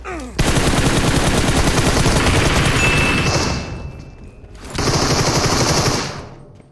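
Automatic gunfire in a PUBG Mobile competitive match rattles loudly and continuously in two long bursts separated by a short lull, close and dominant with no clear talk.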